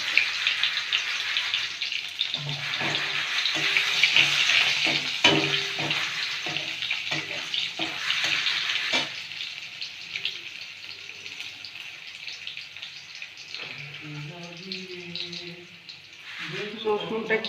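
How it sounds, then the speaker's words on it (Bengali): Garlic sizzling in hot oil seasoned with black cumin seeds, a steady bright hiss running throughout, with a voice talking over it in the first half and again near the end. "এই যে কালো জিরা ফোড়ন দিয়ে একটু রসুন দিলাম"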